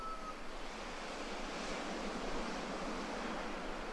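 Ocean surf at dawn in Bali washes in a steady, soft hiss, a continuous gentle roar of waves heard at a distance with no voices.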